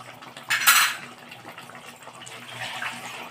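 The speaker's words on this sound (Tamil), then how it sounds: "உங்களுக்கு எந்த அளவுக்கு குழம்பு வேணுமோ அந்த அளவுக்கு தண்ணி ஊற்றிக்கணும்" Water is poured into a pot of Chettinad-style cluster beans tamarind curry with coconut and tomato, starting with a sharp clatter of metal, then a soft close stream of liquid running and splashing.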